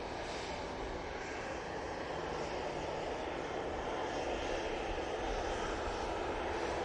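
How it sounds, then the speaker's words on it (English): TUI Boeing 737-800 jet climbing out of Manchester bound for Heraklion, a dense, continuous engine roar that stays loud and even throughout, with no voices. "So this is off to Heraklion. This is 737-800 for this flight."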